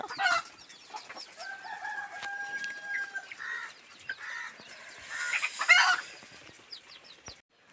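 Chickens at a poultry farm housing hens and newly hatched chicks: busy clucking, a rooster crow and scattered chirps overlap continuously, with a brief flutter of wings, moderately near and without talk.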